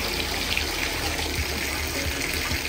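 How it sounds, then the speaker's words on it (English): Tap water runs steadily into a bathtub being drawn for a bath, a continuous close rushing wash with no voices. "Now I'm going to draw myself a little bath."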